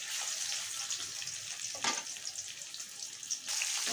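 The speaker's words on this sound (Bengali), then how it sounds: "আমি কড়াইতে তেল দিয়েছি আর তেলটা গরম হয়ে গেছে। এখন ওই মাছগুলো ছেড়ে দেব।" Bhetki or patari fish frying in hot oil in a kadai wok, a steady close crackling sizzle throughout with a brief sharper spatter burst midway and no talking.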